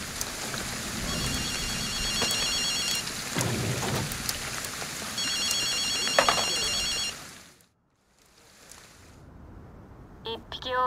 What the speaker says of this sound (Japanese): あの電話が鳴っているみたいだ。